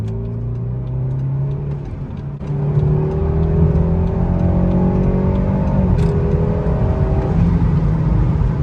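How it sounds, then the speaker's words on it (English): A tuned BMW B48 four-cylinder car pulling hard on a highway, engine note climbing through a gear, a short dip at a shift, then rising again, loud and close from inside the cabin. "Let's just do a quick pull on the highway and see how it does."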